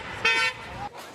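Car horn tooting in a burst of bright harmonic honks, loud and close, with a voice briefly audible around it during a campaign outing.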